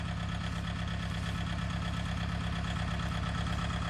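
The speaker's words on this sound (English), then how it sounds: "That's the tractor with a 6-foot tiller that weighs 850 pounds." A tractor carrying a 6-foot, 850-pound tiller idles with a steady, even diesel-like rumble and rhythmic low pulsing, close and constant throughout, with no talk.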